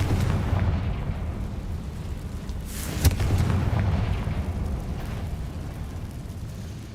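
Confringo spell explosions in the Hogwarts Legacy video game: a dense, continuous rumble of blasts with one sharp, louder burst near the middle, loud and close, with no talking.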